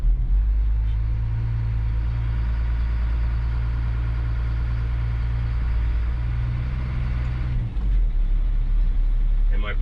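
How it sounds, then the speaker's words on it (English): Dump truck rolling slowly in first gear during a brake test, its diesel engine a steady low rumble throughout with a brief dip and change in tone near the end. "I'm going to slowly release my clutch till I get going about 3 to 5 miles an hour, and then apply my brakes"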